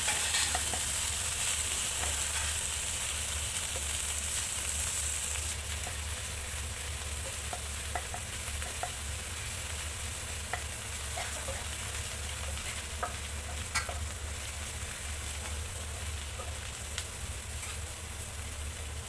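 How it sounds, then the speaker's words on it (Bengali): Onion paste and spices stirred and fried in a pan for a Bengali pomfret fish dish, a steady close sizzle with occasional scraping clicks of the spatula, continuous throughout with no talking. "পেঁয়াজ বাটাটা দিয়ে দিতে হবে ভালো করে নেড়ে নিতে হবে যাতে মশলাগুলি একটু ভাজা ভাজা হয়ে আসে"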